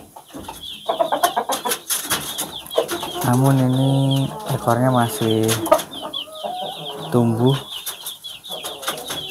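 An Ayam Ekor Lidi hen clucks in repeated close, loud bursts, its calls rising and falling across several seconds while someone talks around them.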